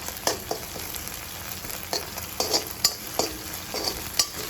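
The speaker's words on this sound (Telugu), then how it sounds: "కొంచెం పచ్చివాసన పోయేంత వరకు ఇలా ఫ్రై చేసుకోవాలి." Goat brain with garlic paste frying in a pan, a soft continuous sizzle broken by repeated scraping strokes of a spoon as it is stirred, close by with no talking.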